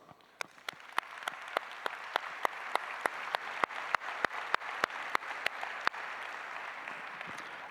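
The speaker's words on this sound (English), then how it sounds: "I think that they deserve a round of applause." An audience at a congress closing ceremony applauds, a dense steady wash of clapping punctuated by regular sharp louder claps near the microphone, sustained without voices.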